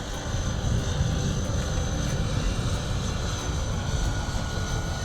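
Airplane flying over a harbor, a steady broadband engine drone with a low rumble that holds at moderate, fairly distant loudness for the whole stretch, with no talking over it.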